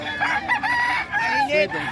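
A fighting rooster crows close and loud in a single drawn-out call, with faint background voices.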